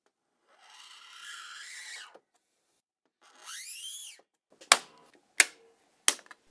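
An acrylic sheet is cut to size for a cyberpunk diorama, giving two long, rising-and-falling squeals, then three sharp, sudden bursts separated by quiet gaps.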